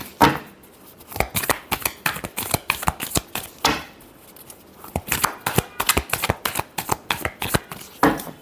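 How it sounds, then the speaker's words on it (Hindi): Tarot cards shuffled by hand in quick, close bursts of riffling and flicking, with short pauses between rounds and no voices. "Last shuffle, wheel of Fortune."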